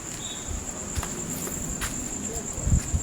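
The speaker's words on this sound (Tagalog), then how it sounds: "alam mo yung tunog ng kuliglig pag gabi" Crickets chirping in a continuous high trill at night in a cemetery, with a few soft thumps and rustles nearby.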